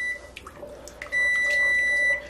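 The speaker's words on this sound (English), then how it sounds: "Hey, you hear that alarm going off? That means I gotta check my squash." A high electronic timer beep chirps once, then holds a steady tone for about a second over faint kitchen background noise.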